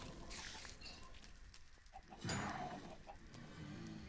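An XP chicken clucks in the Minecraft modpack Ragnamod VII, giving short clucking calls over a busy game background, with a louder burst about halfway through.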